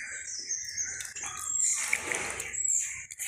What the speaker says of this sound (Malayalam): അപ്പം നമ്മൾ ഇത്തുകൂടെ വെള്ളം ഒഴിച്ച്,